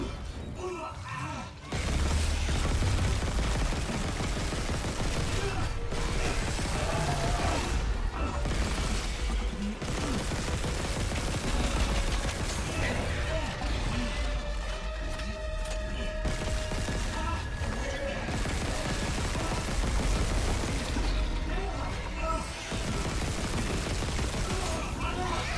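Gunfire in the Dead Space Remake, a steady barrage of loud shots with crashing impacts, creaks and mechanical clatter that keeps going without a break. A voice talks now and then over the din.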